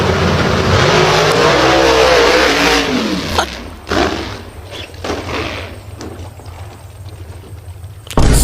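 A powerful car engine roars loudly for about three seconds with a rising, sweeping revving pitch, then drops away into quieter, uneven mechanical rumbling and a few sharp bumps toward the end.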